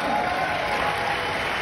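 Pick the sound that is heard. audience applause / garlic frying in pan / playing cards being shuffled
audience applause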